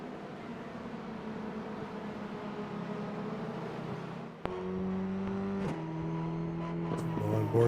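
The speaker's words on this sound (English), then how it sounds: "We've got a full pace lap on the way." Formula 4 race cars roll through a pace lap at Watkins Glen: a steady engine drone hums at a distance, then a sharper, louder engine note cuts in and holds with rising whine.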